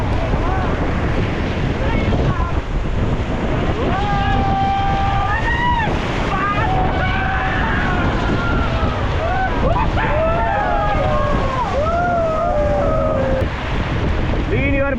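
Rushing river rapids and waves slapping a raft on a river near Rishikesh, loud and continuous with wind noise, while several people shout and talk over the water throughout.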